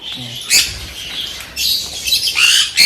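Several pet parrots squawking in sharp, harsh bursts close by, with short gaps of quieter chatter between calls.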